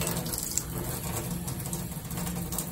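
Tap water runs steadily into a workshop sink, a continuous close hiss and splash with no talk over it.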